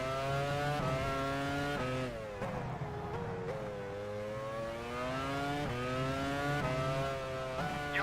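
Formula 1 car engine from the F1 Challenge 99-02 racing game at the 2001 Belgian Grand Prix, a loud, steady high-revving whine that shifts pitch with gear changes and drops briefly mid-run, with no talk.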